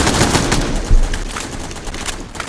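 Sustained rapid gunfire and explosive bursts in the video game AXYOS, loud and dense, running without a break and with no voices over it.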